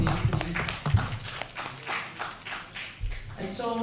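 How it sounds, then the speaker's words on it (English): Scattered clapping rises from a small gathering at a parliamentary media event, sparse and uneven rather than a full ovation, with some low thumps and a voice near the end. "Round of applause for you, please."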